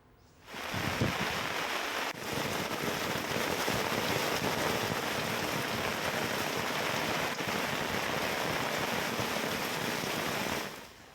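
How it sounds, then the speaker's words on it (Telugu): Heavy cloudburst rain in Hyderabad pours down in a dense, unbroken roar that starts abruptly and holds steady for several seconds before cutting off. "హైదరాబాద్లో పలు ప్రాంతాల్లో కుండపోత వర్షం కురుస్తోంది"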